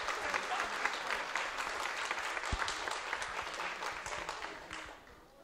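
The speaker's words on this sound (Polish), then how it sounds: "Wojciech Kukuczka, Wojciech Lemański, wielkie brawa, zaczynamy." Steady, dense applause from a sizable crowd, clapping continuously and fading slightly near the end.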